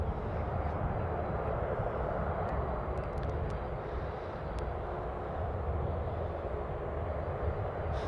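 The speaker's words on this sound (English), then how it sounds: "C-130 coming in. Light and air cargo. Touching down on runway 15." A C-130 cargo aircraft landing on runway 15 at an airport, a steady distant turboprop engine roar that holds constant throughout, with no talk over it.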